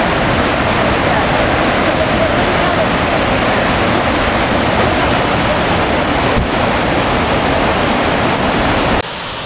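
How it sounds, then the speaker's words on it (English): High Falls in Dupont State Park, swollen after a rainstorm, pours in a loud, unbroken roar of rushing water that stays steady and close for the whole stretch. "Tremendous rush of water after the recent rainstorm."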